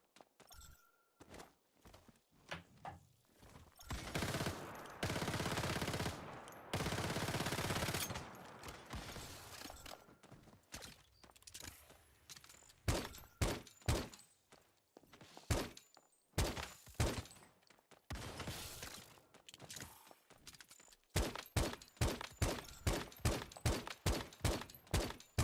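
Small-gun fire in a video game comes as bursts of sharp shots, some in rapid strings and others single, with quiet gaps and a few thuds between them.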